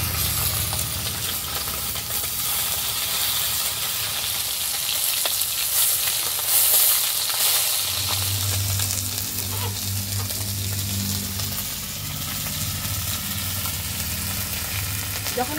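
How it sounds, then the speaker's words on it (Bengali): Fish frying in hot oil in a pan, a loud continuous crackling sizzle throughout with a low steady hum joining partway, no voices. "একদম সুন্দর ভাজা হচ্ছে"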